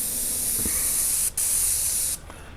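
A paint sprayer lays a coat on a cinder block wall outdoors, giving a loud, steady airless hiss that cuts out briefly midway, resumes, and then drops off near the end.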